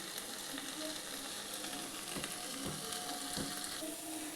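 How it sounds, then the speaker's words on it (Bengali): Spices including turmeric, cumin-coriander powder, garam masala and Kashmiri chilli powder fry in oil for a chicken korma, a steady close sizzle with a few soft stirring knocks. "দেখুন মশলাটা একদম সুন্দরভাবে ভাজা হয়ে গেছে"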